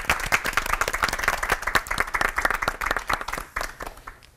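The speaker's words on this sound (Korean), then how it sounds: "세 분 목사님께 큰 박수 부탁드리겠습니다" An audience at a televised church lecture applauds three pastors, with dense, steady clapping close and loud throughout that tapers slightly toward the end.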